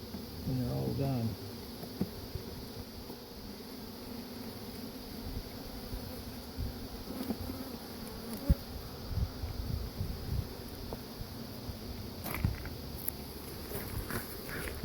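Honey bees hum steadily around an open hive of comb, a dense, continuous buzz with occasional close handling knocks and scrapes underneath.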